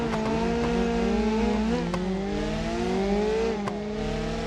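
Turbocharged car engine in BeamNG.drive revving hard at a launch, a loud steady drone with harmonics climbing and wavering, with a few sharp ticks over the top, and no speech.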